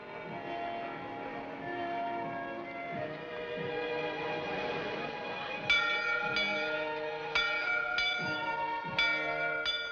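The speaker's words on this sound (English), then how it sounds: "Bell. I always liked bells." A church bell rings out clearly in a small colonial frontier town, its strokes arriving in a slow, regular series of loud, resonant clangs that ring on over a sustained musical backdrop.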